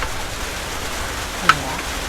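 Steady rain falls outdoors in a soft, even wash of patter, with a single brief tap standing out partway through.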